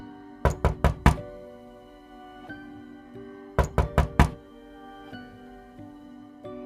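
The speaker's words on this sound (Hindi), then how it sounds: "किसी ने दरवाजे पर दस्तक दी।" Two bursts of four sharp, heavy knocks on a door ring out loud and close in a quiet horror-story scene, with a pause of about two seconds between the groups.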